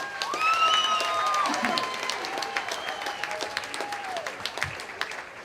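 Wedding guests applaud the couple's grandparents at a reception, a soft spread of clapping from the room with a few whoops, fading gradually while faint tones run underneath.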